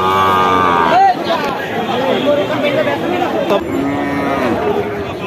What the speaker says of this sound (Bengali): আজ আপনাদের দেখাবো অনেক সুন্দর সুন্দর এড়ে বাছুর।